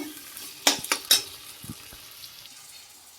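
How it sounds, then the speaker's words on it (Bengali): Masala with slit green chillies sizzles softly in a pan for a potato and rohu fish curry, with a few sharp spoon scrapes and clinks early on, then a quieter frying hiss, no voices. "এবার আমি এটা ভালো করে কষিয়ে নেবো।"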